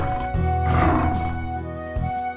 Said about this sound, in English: woke up with a loud roar.